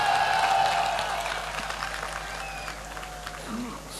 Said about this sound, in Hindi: तालियां ढंढान बजा दो